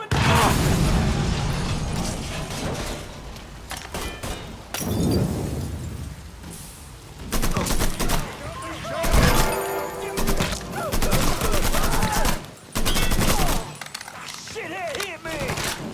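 A chaotic Mafia 3 firefight, with bursts of gunfire and booms coming in uneven clusters over the whole stretch and shouting voices mixed in.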